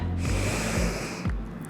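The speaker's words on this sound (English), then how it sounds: "Maybe you want to take a deep breath." A single deep breath drawn in through the nose during a medium-intensity arm workout, a loud close snorting inhale that runs most of the clip with no talking over it.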